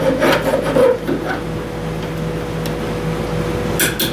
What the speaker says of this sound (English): Got a lot of filing to do now to get that cleaned out again.